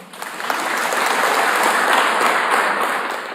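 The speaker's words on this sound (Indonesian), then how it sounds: "Bu Menteri beri tepuk tangan dong." An audience applauds at a speech by a government minister, dense continuous clapping from many hands that swells and holds at a loud level for several seconds, with no voices over it.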